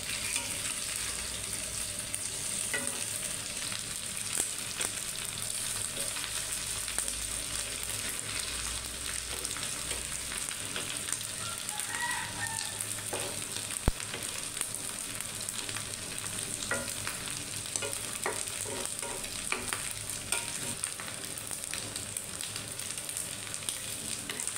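Onion fritters (piyaju) deep-frying in hot oil, a steady dense sizzle with occasional clinks and scrapes as the pieces are turned over, continuous and close with no talk.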